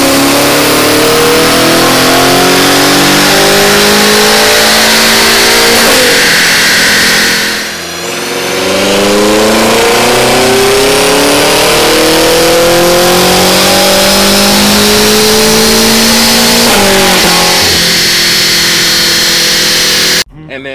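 A BMW M5 Competition with catless downpipes and the factory sport exhaust revs hard and close, its engine note climbing and falling through repeated pulls with a brief dip, while people talk over it.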